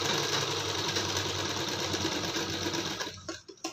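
A sewing machine runs close and loud, its fast steady rattle stitching tacking on an embroidered blouse, then slowing and stopping near the end.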